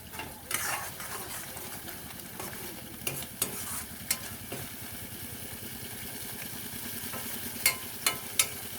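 Spice masala fries in oil in a pan for an egg curry, a soft continuous sizzle with a low background hum and a few sharp clicks of a stirring spoon, quiet and close.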